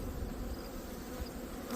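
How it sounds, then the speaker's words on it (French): Honeybees humming inside an open beehive during a hive inspection, a soft, steady, low buzzing drone heard up close and unbroken for a brief moment. "On voit toutes les abeilles sont en train de finir de mettre une petite couche de cire dessus"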